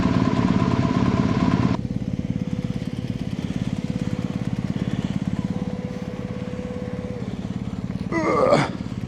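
A motorcycle engine idles steadily close by on an outback ride in the Flinders Ranges, with a rough, even rumble throughout and a brief clattering burst near the end.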